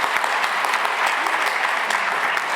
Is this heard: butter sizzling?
no